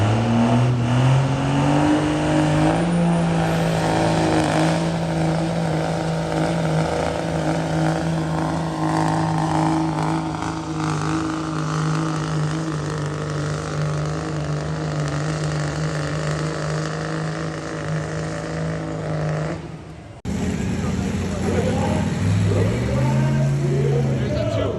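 Diesel sled pull truck engine revving loud and close, a deep steady roar with a strong low drone that holds for about twenty seconds, cuts off briefly, then picks back up with shifting pitch.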